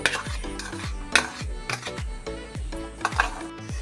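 Yogurt is mixed by hand into flour for naan dough in a bowl, a rhythmic series of soft scraping and knocking strokes repeating about twice a second, close and without speech.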